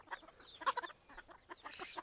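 Spanish (İspenç) breed chickens clucking in short, scattered bursts, a few calls rising higher, at moderate distance with no talk.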